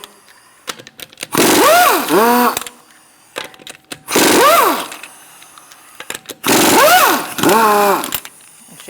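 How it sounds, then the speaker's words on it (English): A power impact wrench with a 19mm socket taking lug nuts off the front driver's side wheel of a Buick Encore, three loud whirring bursts with short pauses between. "Using a 19mm socket, we're going to remove our lug nuts."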